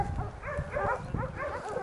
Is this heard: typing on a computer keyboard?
no